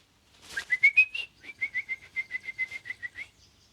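A rapid series of clear, bright whistled notes, rising at first and then repeating evenly, like birdsong, sounding close and alone.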